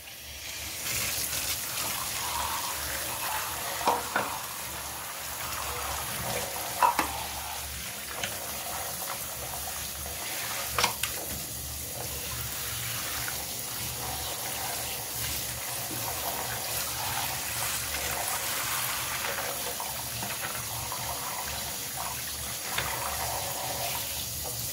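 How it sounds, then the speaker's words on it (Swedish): Running water from a tap rushes steadily into a bathroom drain being flushed clean after hair was cleared from it, a continuous close splashing that holds throughout with no talking. "Nu kan jag spola med vatten."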